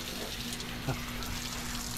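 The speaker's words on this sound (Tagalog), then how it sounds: "Ligo muna tayo dito sa ano. Sa shower lang muna tayo." Shower water runs in a steady, even hiss at a beach resort in Zambales, rinsing off seawater after swimming, close and constant with a brief louder splash near the middle.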